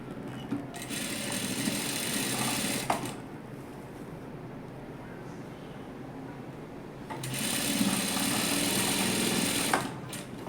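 An electric sewing machine stitches main fabric to lining in two steady, fast runs, the first about two seconds and the second about three, with a quiet pause between them.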